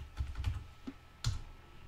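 Keystrokes on a computer keyboard as a password is entered during a Linux setup, a few soft low clicks and then one sharper tap, close and fairly quiet, with no talking.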